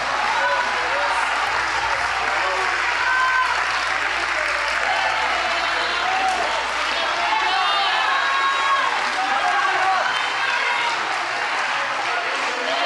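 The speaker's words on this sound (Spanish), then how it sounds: "dele un aplauso al Señor Jesucristo" A church congregation applauding Jesus Christ, sustained loud clapping and cheering from a large crowd throughout, with voices shouting underneath.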